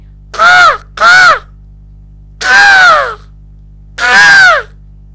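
Crows caw loudly nearby in Corbett National Park, two quick calls then two longer, drawn-out caws, over a steady low hum.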